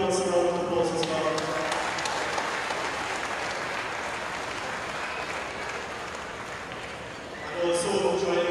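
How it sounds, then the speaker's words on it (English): An audience applauds for the tournament sponsor Courts at a T/20 cricket finals, a sustained round of clapping from a crowd that fades slightly before a voice returns over the end. "Could you give Courts a round of applause as well?"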